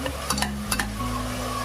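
Tomato sautéed with onions in a pan for dhaba-style whole masoor, with a soft sizzle and a few quick spatula scrapes and taps up close, no voices.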